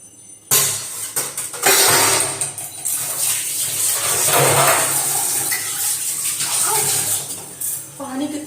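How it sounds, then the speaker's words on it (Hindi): Running hot water splashes steadily as lunch dishes are rinsed, with occasional clinks and someone speaking briefly in Hindi over the flow. "अब मैं सारे बर्तन धोऊंगी जो मेरे लंच के बर्तन है"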